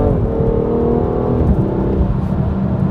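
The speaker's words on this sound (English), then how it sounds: "taking this car around corners like this, downshift, power through." BMW F87 M2 Competition with full bolt-on modifications, engine note dropping through a downshift then rising as it powers hard out of a corner, loud, close and continuous with no talk.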